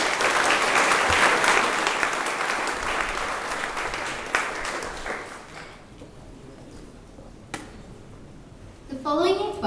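School awards ceremony audience claps for student award recipients, the applause strong at first then thinning out to a few scattered claps before a voice starts speaking.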